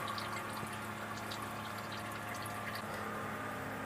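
Motor oil drains from a car's oil filter held straight up and down, giving a steady, faint trickle over a low background hum.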